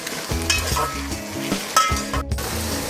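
Peas and potatoes fry in a pan for aloo matar pulao, a close, loud sizzle punctuated by rhythmic scraping and clinking as a spoon stirs against the metal, with no voices.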